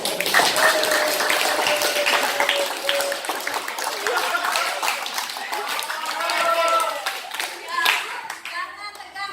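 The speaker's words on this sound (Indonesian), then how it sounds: "Untuk menghilangkan tegang, mari kita tepuk tangan dulu." An audience at a debate session claps in a dense, sustained burst of applause that thins out toward the end, with voices mixed in underneath.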